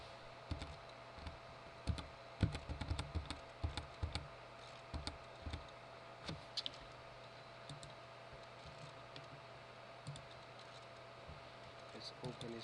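Rapid typing on a computer keyboard in bursts of quick clicks, fairly close, with pauses between runs of keystrokes over a faint steady hum.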